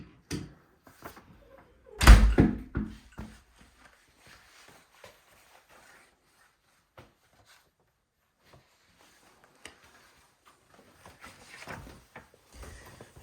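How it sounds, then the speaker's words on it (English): A metal door in an older house is pulled open and swung shut, giving one loud nearby bang followed by a rattle, then faint scattered knocks and shuffling in a quiet room. "I think that's a metal door."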